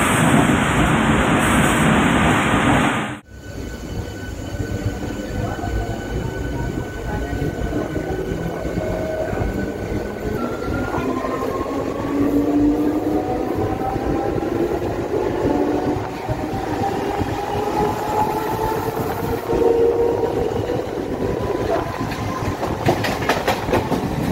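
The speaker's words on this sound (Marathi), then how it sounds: "नीट प्रवास करतोय आज ट्रेनचा" A Mumbai local train running steadily on rails toward Dadar, with a continuous rumble, rhythmic clatter and rising whines, close and loud throughout.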